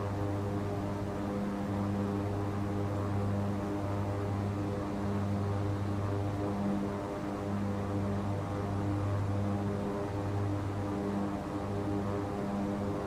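King Air 350 turboprop on approach in the X-Plane 12 simulator, producing a steady, even engine drone with a low pulsing hum that holds unchanged throughout, no voices.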